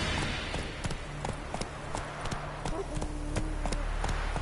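Hooves of the horse Roach clip-clop in a video game, a steady run of sharp knocks repeating under a game music and ambience bed with a low tonal drone.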